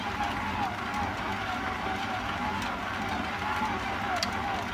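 A stand mixer kneads ciabatta dough at speed 2, giving a steady, even motor hum with a faint rhythmic wobble that holds for the whole stretch while a person talks over it.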